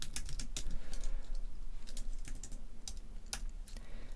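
Steady, fast typing of code on a computer keyboard, dense close-up key clicks with a few louder keystrokes standing out, continuous throughout with no speech.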